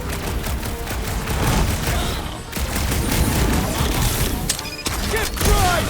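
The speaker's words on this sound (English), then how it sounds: "It's like this thing eats blaster fire." Blaster fire streams in a fight in Marvel's Guardians of the Galaxy, rapid bursts of energy shots mixed with booms and impacts, loud and continuous amid chaotic combat noise.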